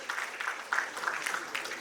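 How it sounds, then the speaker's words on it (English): Audience clapping to welcome a speaker on stage at an event, a short patter of hand claps at moderate distance with uneven bursts, fairly faint and mixed with some room murmur. "Let's welcome Ms. Yukti Arora with a big round of applause"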